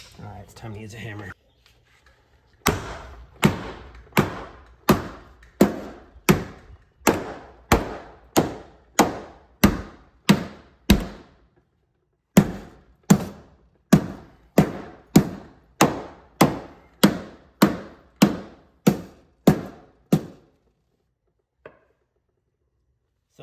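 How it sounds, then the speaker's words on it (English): Steady hammering on a Chevy Silverado truck fender, about thirty sharp metal blows in a regular rhythm with a short pause midway, each strike ringing briefly before the next. "It's time to use a hammer."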